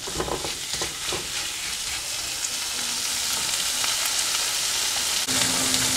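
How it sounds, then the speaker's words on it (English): Spicy Andhra-style prawn masala sizzles steadily in a pan, with scraping stirs near the start and a constant close frying hiss throughout. "In between stir it well, otherwise it will stick into the pan."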